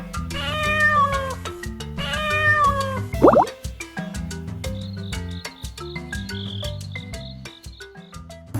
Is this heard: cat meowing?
yes